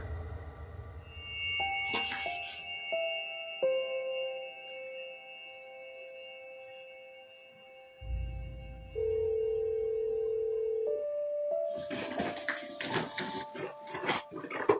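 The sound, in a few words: telephone ringing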